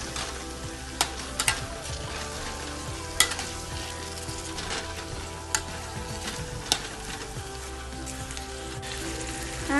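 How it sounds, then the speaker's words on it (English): Beef cutlet mixture with pepper powder sautéing in a pan for Anglo-Indian beef cutlets: a steady, close sizzle runs throughout, with a few sharp spatula scrapes and knocks standing out. "Just saute that well."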